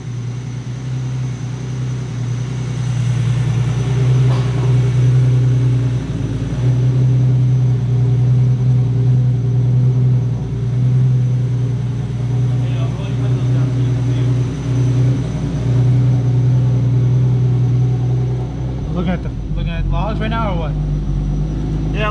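A car engine at first startup on a base tune with six 2150cc E85 injectors idles with a steady low rumble and hum, running continuously, with a few brief clicks and a rising whine near the end.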